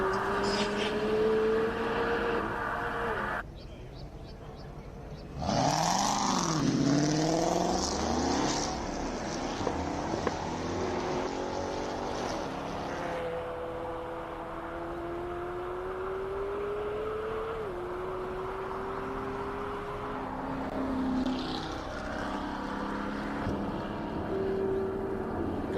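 A McLaren 720S sports car at the Simola hillclimb, its engine note loud and climbing through gear changes as it sweeps past close by, then holding a steady high drone that slowly fades into the distance with brief blips.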